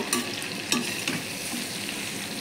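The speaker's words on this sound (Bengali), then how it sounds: "পটলগুলো এইভাবে করে ভেজে নেব।" Potato and pointed gourd pieces fry in hot oil with a steady sizzle, while a spatula scrapes and taps the pan in a few sharp clicks early on.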